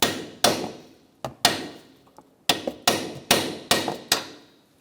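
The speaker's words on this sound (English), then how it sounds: "I'm going to use a cold chisel and a hammer." A hammer strikes a cold chisel against the steering knuckle of a 2014-2019 Kia Soul, giving about nine sharp metallic blows in an uneven rhythm, each ringing briefly before decaying, close and loud.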